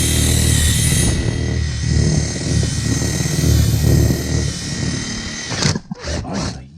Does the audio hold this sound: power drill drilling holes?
yes